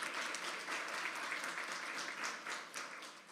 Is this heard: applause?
yes